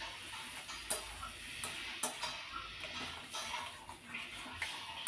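A metal spatula works taro leaves (kochu shak) and spices around a pan, a faint bed of soft sizzling broken by quiet, regular ticking scrapes and taps about once a second.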